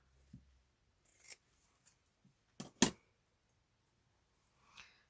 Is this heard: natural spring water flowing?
no